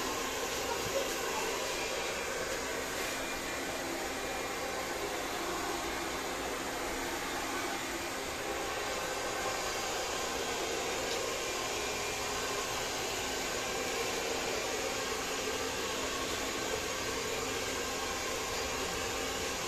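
A steady, loud blower drying something drones continuously with a broad hissing roar, unchanging for the whole stretch.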